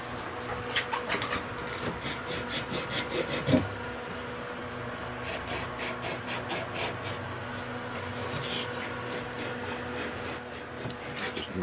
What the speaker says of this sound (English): Get some sandpaper out.